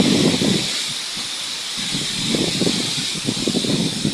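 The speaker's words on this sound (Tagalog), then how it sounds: "Gigising ako sa hangin ng lakas." Strong typhoon wind rushes through coconut palms and other trees, a steady loud hissing roar with gusty surges and rustling underneath.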